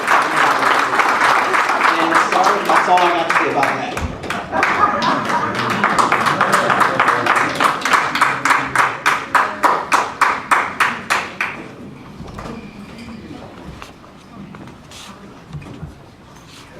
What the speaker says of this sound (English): let's give the VA a round of applause, doggone it